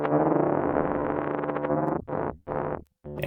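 A sustained tone warped by a granular decomposition effect preset, breaking into stuttering, chopped fragments with short gaps near the end.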